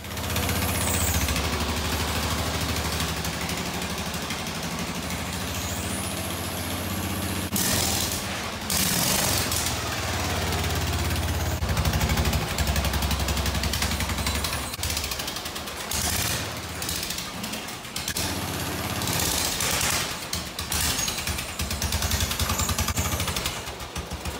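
An off-road lawn mower engine sputters as it runs out of gas, its uneven running broken by loud, sharp backfire pops in irregular bursts, close and dominant for the whole stretch with no talk.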